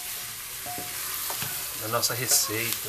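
Beef frying with onion and garlic sizzles steadily in the pot while a spoon stirs and scrapes through it, and a voice speaks over the cooking near the end.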